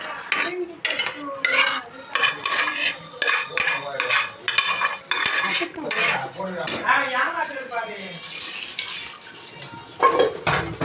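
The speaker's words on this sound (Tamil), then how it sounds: "நல்லா கிளறி விட்டு" Metal utensils scrape and clatter against a pot in steady, repeated strokes, close by, with some faint background noise and no talking.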